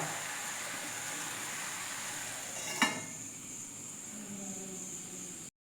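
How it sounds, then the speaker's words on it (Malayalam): Quiet hiss of a hot pan while cooking papaya thoran, with one sharp scrape of a utensil midway, then soft sizzling continues before cutting off. "ചട്ടിയെല്ലാം നന്നായി ചൂടായി വന്നിട്ടുണ്ട് അപ്പോൾ ഇതൊന്ന് ഇളക്കി കൊടുത്തതിന് ശേഷം"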